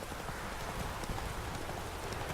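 Roach, a horse in The Witcher 3: Wild Hunt, gallops with dense, steady hoofbeats. The clatter is continuous and fairly loud and close throughout, with no voices.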